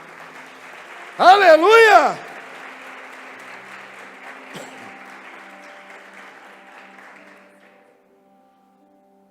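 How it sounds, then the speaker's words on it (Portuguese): A church congregation claps during a sermon; a loud voice shouts over the start, then the applause continues as a steady, moderate wash that gradually fades away to silence. "Dá um aplauso bem forte para Jesus."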